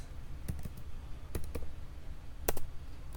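A computer keyboard is tapped in a sparse, uneven rhythm: a handful of separate clicks and short key presses against a low background hum, close and fairly faint.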